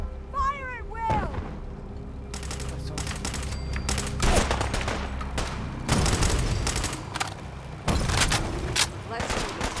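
Repeated volleys of gunshots and booming blasts from combat in the game Fallout 4 fill the scene in dense, uneven bursts, with a shouted voice and whoop briefly heard at the start.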